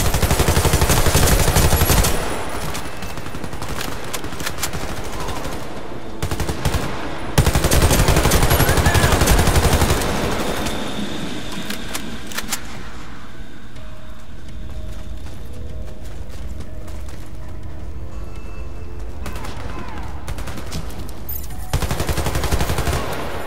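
Gunfire in the shooter game Warface, loud close machine-gun bursts and rapid volleys in several spells separated by quieter stretches of ambient background, ending with another burst.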